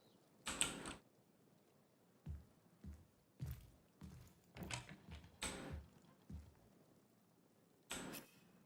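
A door lever mechanism in Divinity: Original Sin creaks and clunks in a series of short mechanical bursts, roughly a dozen separate grinding movements, close and fairly quiet, with silent gaps between.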